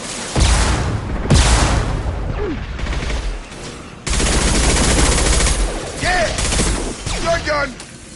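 Gunfire from Mass Effect 2 combat: loud, dense bursts of automatic weapon fire in repeated volleys with short gaps, close and forceful, while voices speak at times between the shots.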